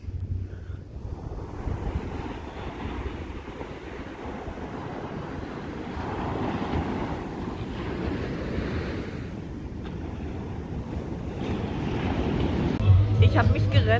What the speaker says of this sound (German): Mega Wellen sind hier.